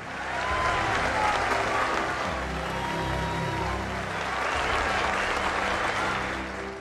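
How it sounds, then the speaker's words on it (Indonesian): Danish media crowd greets two Arctic explorers stepping onto a stage with sustained, full-bodied applause, steady and moderately distant, swelling slightly and then fading at the end. "mereka pun akhirnya naik ke atas panggung disertai tepukan serta teriakan kebanggaan yang meriah"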